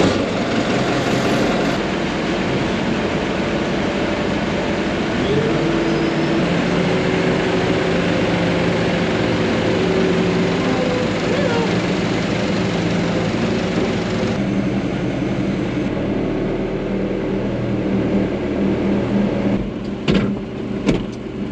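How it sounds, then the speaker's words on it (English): A farm tractor engine runs steadily and close by, a continuous loud mechanical drone with no talk, shifting slightly in tone partway through before a few brief knocks near the end. "Just something so nice about getting on your own tractor."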